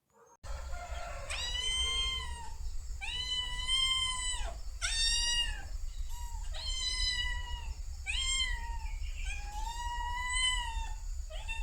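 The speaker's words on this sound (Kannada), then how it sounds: "ಒಂದು ನಾಲ್ಕು ಗೋಲ್ಡನ್ ಕಲರ್ ಬೆಕ್ಕುಗಳಿದ್ದಾವೆ" Repeated meows from golden-coloured cats on an Indian village farm, about six drawn-out cries in a row with short pauses between them, close and clear over a low background hum.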